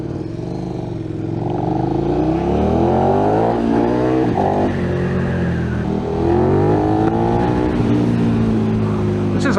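Motorcycle engine riding along a road, loud and close, its pitch climbing and falling as the revs shift through gears for the whole stretch.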